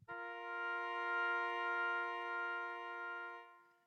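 Two pitches a fourth apart sustain together as one steady, open-sounding interval for several seconds, clear and alone, fading at the end.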